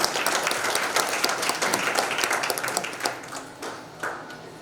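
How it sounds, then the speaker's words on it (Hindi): A crowd claps in dense, lively applause at a launch speech, gradually thinning out, with a few scattered claps near the end. "एक बार फिर से जोरदार तालियां दोस्तों।"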